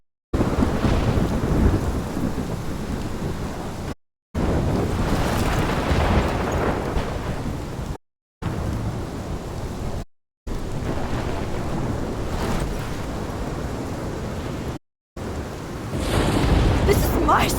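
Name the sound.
thunderstorm in video game Life Is Strange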